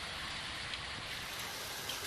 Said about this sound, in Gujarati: એક તરફ ધોધમાર વરસાદ ખાબકી રહ્યો છે, તો બીજી તરફ આકાશમાંથી કરાનો વરસાદ વરસી રહ્યો છે